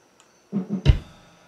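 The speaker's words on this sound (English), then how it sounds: "That's the sound of the kick, raw. There's no EQ." Raw kick drum picked up by a Shure PG-52 microphone with no EQ: three deep, boomy thumps in quick succession, the last the heaviest and longest, each followed by a short low decay. Close and dry, with no voices.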